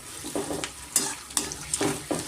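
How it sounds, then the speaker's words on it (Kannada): Boiled potatoes seasoned with salt and turmeric fry in oil, with several bursts of stirring and sizzling at close range and no voices. "ಫ್ರೈ ಮಾಡ್ಕೋಬೇಕಾಗುತ್ತೆ ಸ್ವಲ್ಪ ಡೀಪ್ ಫ್ರೈ"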